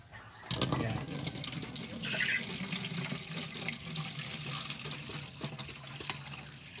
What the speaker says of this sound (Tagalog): Nilagyan ko po ng tubig.